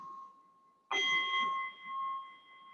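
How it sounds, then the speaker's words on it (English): A single bell strikes clearly during a mindfulness meditation and rings on, its bright tones sustaining and slowly fading in an otherwise quiet space. "We're just going to use the bell."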